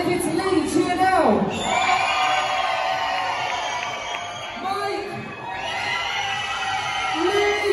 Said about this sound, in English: If it's Lee, cheer now